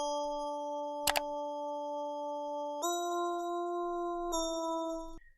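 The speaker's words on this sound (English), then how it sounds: "we're going to be using our Echo plugin here on this little bell instrument lead that I have going here" A synthesized bell lead built in Ableton plays sustained tonal notes, with a short bright transient near the start and two pitch changes later on, clean and alone at moderate level.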